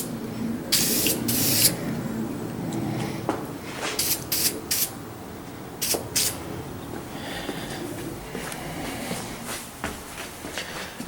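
Bulldog adhesion promoter is sprayed from a can onto a bare plastic Corvette bumper in short, loud, close hissing bursts, several in a row with brief pauses between them.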